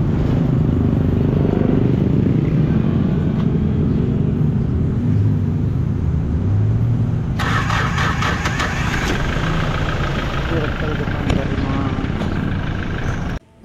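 A motorcycle engine with a newly fitted battery struggles to start, cranking and turning over unevenly before settling into a rough running rumble that sounds close and loud throughout.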